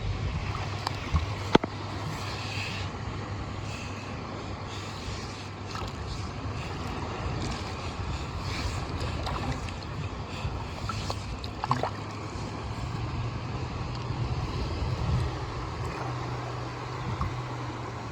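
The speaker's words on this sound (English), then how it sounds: "Now the water has started again. Oh wow, that created a lot more flow." Water flows steadily through a model culvert system, a continuous broadband rush with no voices, holding at an even level throughout with a few small splashy ticks.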